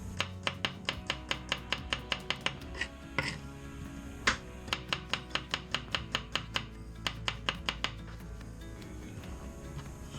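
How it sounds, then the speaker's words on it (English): A knife chops eight garlic cloves on a board in quick, steady rhythmic taps, close and crisp, with a brief pause midway before the fast chopping resumes. "So I'll quickly chop up these 8 cloves"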